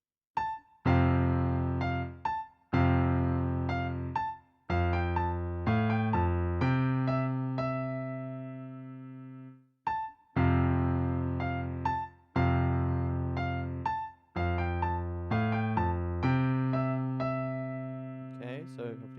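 A keyboard plays Parsons Farewell with both hands together: a steady run of clear, close melodic notes over a bass line, broken by a short pause partway through.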